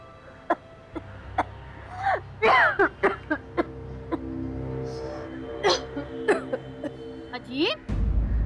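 An elderly mother coughs repeatedly in short harsh bursts spread over several seconds at a home, close up, with throat sounds and gasps between the coughs over a low background hum.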